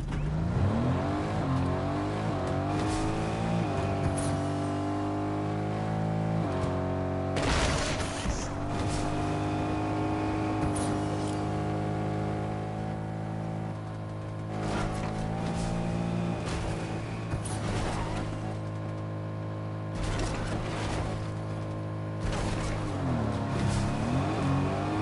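A Datsun 240Z driving in Fortnite gives a steady, loud engine drone with shifting pitch throughout, and occasional bursts of other game sounds over it.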